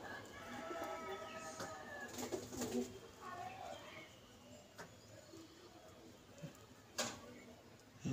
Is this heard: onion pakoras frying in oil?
no